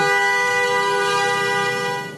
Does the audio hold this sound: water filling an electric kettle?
no